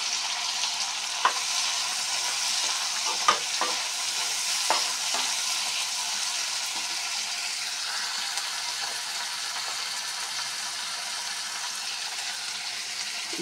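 Crabs and chillies fry in a pan, a steady close sizzle with a few sharp clicks and stirring knocks scattered through the first half.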